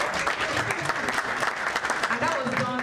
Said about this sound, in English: Please kindly give a round of applause.